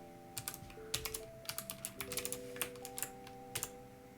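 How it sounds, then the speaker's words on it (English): Quiet, irregular keystrokes on a computer keyboard, clicking in short bursts while code is typed, alone over a faint steady hum. "I'm typing it right now"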